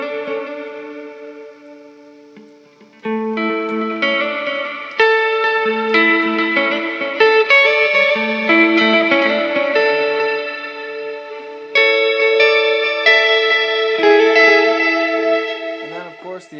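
Clean electric guitar notes ringing out with dotted-eighth delay echoes repeating behind each phrase and a wash of reverb, layered chords building and sustaining throughout.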